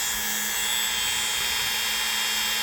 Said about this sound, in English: I'm using this kind of a wheel on it. It's kind of like a Scotch-Brite pad type material.